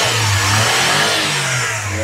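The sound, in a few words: camper van engine revving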